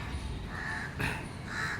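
Crows call near a temple stepwell site in Gujarat, two or three quiet rasping caws spaced apart over a low rumbling background, with no voices.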